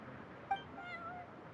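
A cat meows in the Genshin Impact video game: one faint, drawn-out meow rising over a low background hum.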